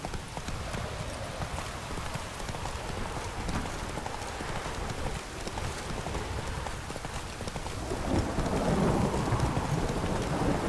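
A horse galloping through a rainstorm in the video game The Witcher 3: Wild Hunt, with steady rapid hoofbeats over constant heavy rain and rumbles of thunder that grow slightly louder toward the end.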